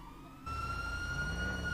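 Police siren in the GTA V video game, a steady wailing tone with sustained harmonics that kicks in about half a second in over low engine rumble and carries loudly to the end.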